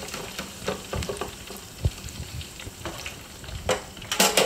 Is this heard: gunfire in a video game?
no